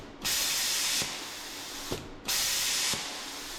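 A bestarc BTC500XP plasma cutter slicing steel, fired remotely through CNC control, gives two loud, steady rushing hisses, each lasting under a second, with a sharp click as each arc starts and brief quiet between them.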